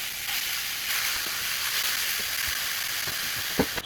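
Ground beef with chili paste sizzles in a pan, a steady, moderate frying hiss with a few soft clicks and stirring scrapes near the end, no voices.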